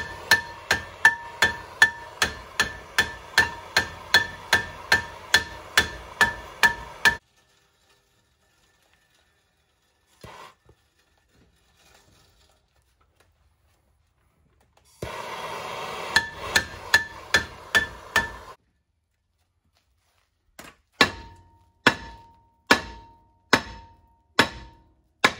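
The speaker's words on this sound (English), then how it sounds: "we've loosened up the rotor with some persuasive tools, our hammer and some heat" Repeated sharp metallic hammer blows in steady rhythm on a heated, rusted rear brake rotor of a 2016 RAM 1500, a long run, then a pause, then more bursts of strikes ringing on metal.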